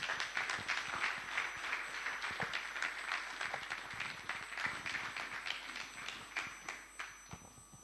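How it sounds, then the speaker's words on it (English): An audience at a fintech forum in Freetown, Sierra Leone applauds the Bank Governor after his speech, a fairly faint, continuous patter of many hands clapping that thins out toward the end. "a resounding round of applause for the Bank Governor, Dr. Ibrahim Stevens"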